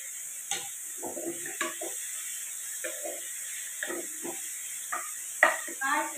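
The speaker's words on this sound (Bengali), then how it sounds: "এটা একটু হালকা একটু সটে করে নিচ্ছি, তারপরে এটা ঠান্ডা হলে আমি এটা পেস্ট করে নেব।" Sliced onion is lightly sautéed in a pan with a faint sizzle and soft stirring scrapes, plus a steady hiss in the background and a few louder clinks near the end.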